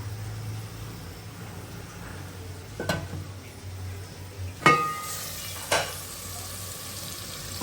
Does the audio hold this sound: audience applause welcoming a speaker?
no